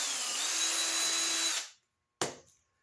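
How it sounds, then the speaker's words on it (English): A power drill with a shaft-mounted carbide cutter squares off a tube end in a key chain blank, running steadily for about a second and a half, then stopping, followed by one short burst of whirring. "I have the tool for squaring that off in the drill"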